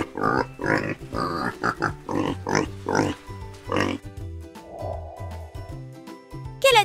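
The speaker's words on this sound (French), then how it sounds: "C'est le cochon!" Repeated rough pig grunts and snorts in quick bursts, fairly close, with a low hum underneath and a short sharp sound at the end.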